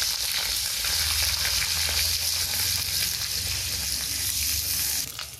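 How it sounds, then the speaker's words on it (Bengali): Eggplant slices frying in hot oil in a home kitchen, giving a steady, loud, broadband sizzle that holds continuously before easing off right at the end. "তেল থেকে ছেঁকে তুলে দিয়ে এখানে বেগুনগুলো ভাজবো।"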